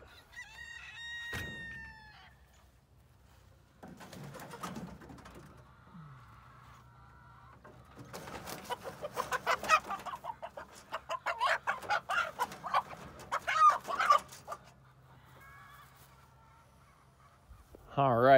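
A Welsummer rooster clucking and squawking in agitated bursts while being caught, close and fairly loud, with other chickens crowing faintly in the background and a person talking quietly nearby.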